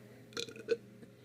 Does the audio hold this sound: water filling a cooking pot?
no